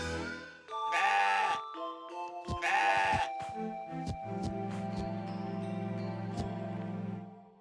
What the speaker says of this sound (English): Follow the goat kid and catch it.